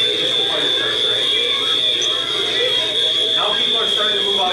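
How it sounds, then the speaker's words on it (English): Continuous high electronic fire alarm tone sounding through a crowded Station nightclub as a fire starts, steady and unbroken beneath a murmur of crowd noise and shouting. "You can hear the fire alarm in the background."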